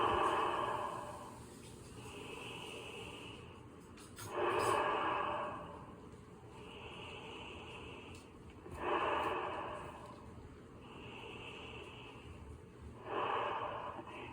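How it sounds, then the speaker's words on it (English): Slow, deep breaths are taken during an energy healing exercise: soft, breathy inhales and exhales recurring at a calm, even pace, close to the microphone and fairly quiet, with no talk. "and do the same breathing."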